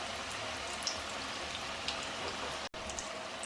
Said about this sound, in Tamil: ஆனியன் சம்சா இங்கே மீதி வெந்துட்டுருக்கு.